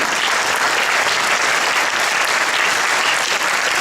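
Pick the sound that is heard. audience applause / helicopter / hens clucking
audience applause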